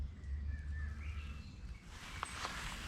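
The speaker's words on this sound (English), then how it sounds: "all we can hear is birdsong." Soft birdsong on a rural cycle path, distant whistles and brief chirps over low outdoor background noise, with no voices.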